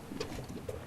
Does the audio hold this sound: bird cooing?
yes